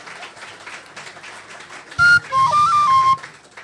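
An audience at the St Louis Tionól 2022 session breaks into applause, quiet at first then surging loudly halfway through, with sharp whistles cutting in over the clapping.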